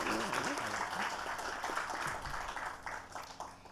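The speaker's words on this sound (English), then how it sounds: "Please give him a big round of applause." Audience applause at the opening ceremony of a medical centre in Fiji, a steady wash of many hands clapping at moderate distance, with faint voices mixed underneath.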